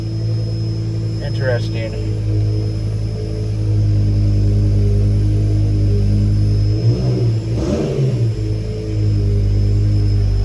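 A BMW E60 M5 with a newly fitted lightweight flywheel idles with a low, steady rumble, then blips briefly louder before settling again. Someone speaks a short word over it.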